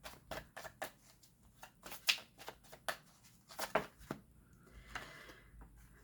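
A deck of tarot cards is shuffled and handled close by, a run of quick papery flicks and riffles followed by softer sliding, quiet and with no talk.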